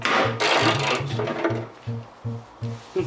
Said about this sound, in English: That bolt there is the last one to remove. Let's do it now.